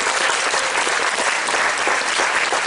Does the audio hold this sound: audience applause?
yes